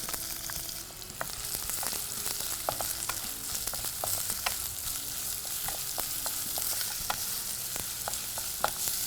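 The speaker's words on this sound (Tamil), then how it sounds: "சோம்பு நல்லா பொரியட்டும்." Fennel seeds with onion frying in hot oil give a steady, close sizzle dotted with sharp crackling pops throughout, with no voices.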